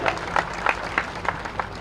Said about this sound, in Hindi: ताली वाली बजाते रहो भाई